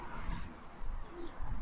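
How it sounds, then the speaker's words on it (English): Birds cooing and calling around a moss-covered church bell tower, a soft, steady outdoor chorus heard alone over light wind. "there's birds and crows and all up there on top of the bell tower"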